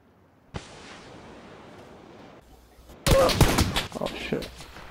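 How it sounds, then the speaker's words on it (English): Gunfire in PUBG Battlegrounds: after a faint hiss, a loud close burst of sharp cracks erupts and keeps going in uneven bursts, with voices faintly mixed in. "I'm being shot by somewhere else, I'm not sure where."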